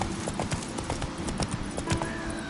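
Geralt's horse Roach in The Witcher 3 gallops at a brisk, steady pace, its hoofbeats clear and close over a soft background.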